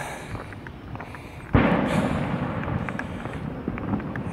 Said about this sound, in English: A lot of people are setting off fireworks today.